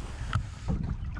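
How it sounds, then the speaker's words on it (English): A Mossie Cadet canoe paddled on a lake, giving two soft splashing strokes of a wooden paddle in the water amid light wind noise, close to the microphone with no talking. "I'm paddling the wrong side."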